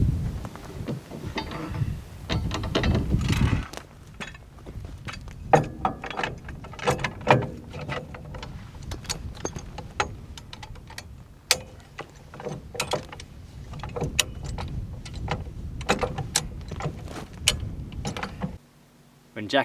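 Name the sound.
Hi-Lift jack ratcheting up a Land Rover Defender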